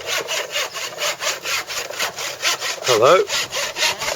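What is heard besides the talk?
hand sawing wood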